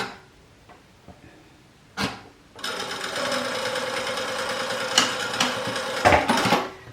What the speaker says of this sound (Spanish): recuérdense que estamos cosiendo a 1 centímetro de costura